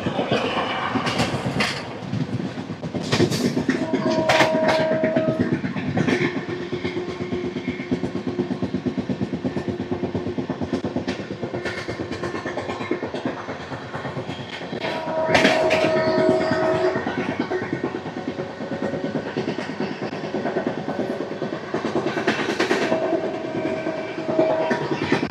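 A Jan Shatabdi Express passes close by on a line near Gudur, a steady loud roar of wheels and rattling carriages with repeated clickety-clack, while short horn tones sound around 4, 15 and 23 seconds.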